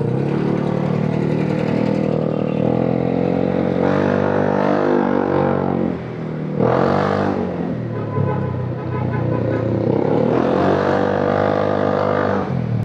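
A Honda Giorno 125 scooter with an upgraded CVT and an aftermarket exhaust pipe drones loudly and close during a test ride, its engine note rising and falling as the throttle is worked.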